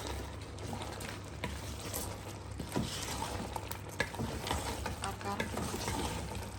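Food roasting in a pan over a gas stove gives a steady close sizzle with light stirring scrapes and occasional clinks, continuous throughout.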